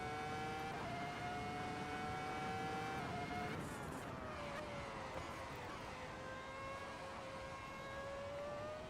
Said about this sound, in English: This is the 2004 F1 car.